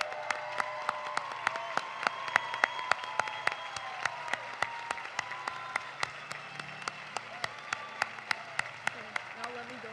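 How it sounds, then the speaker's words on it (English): A graduation crowd at East Hampton High School gives faint, distant applause for standing retirees, heard as a quiet, steady patter of clapping under ongoing talk and room noise. "Can we please give them a round of applause?"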